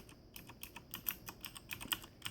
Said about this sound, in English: Most of what you're hearing is the key bottoming out, but there is a little audible click.